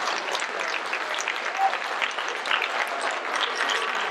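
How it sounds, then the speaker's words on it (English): Applause for a committee at a county Democratic party special meeting, a loud, sustained clatter of many hands clapping from a room full of people, steady from start to finish with no speech. "I really want to give them applause."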